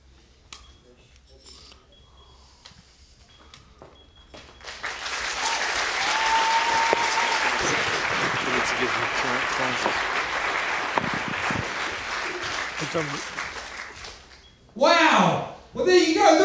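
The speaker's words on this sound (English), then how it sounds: "Give her a massive round of applause." An audience breaks into loud sustained applause after a top-level women's martial arts bout, rising after a few quiet seconds and continuing steadily, with a short burst of voices near the end.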